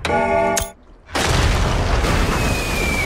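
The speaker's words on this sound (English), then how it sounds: "it's a bomb!" A bomb explodes in the TV show Our Flag Means Death: a tonal musical passage is cut short, a brief near-silence follows, then a loud sudden boom opens into sustained rumbling noise.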